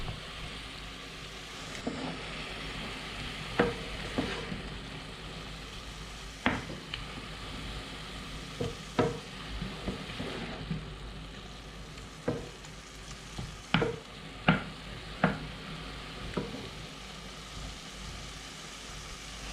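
A salmon pasta sauce with spinach and cherry tomatoes simmers in a pan with a soft, steady sizzle. Occasional sharp clicks and scrapes from stirring break through at irregular intervals, all fairly quiet and close, with no talking.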